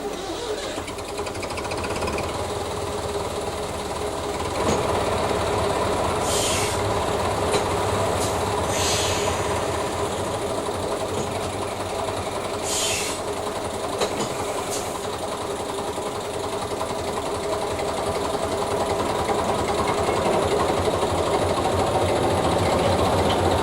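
Steady running of a locomotive on the Festiniog Railway, the 1955 Hunslet Moel Hebog, gives a continuous mechanical clatter and rumble, with several sharp hissing bursts scattered through the long, unbroken passage.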